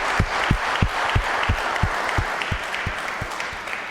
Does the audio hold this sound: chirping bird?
no